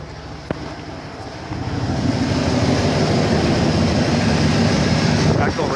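A 1992 Ford car engine idles with a loud, steady low rumble that rises and thickens after a couple of seconds and runs continuously to the end.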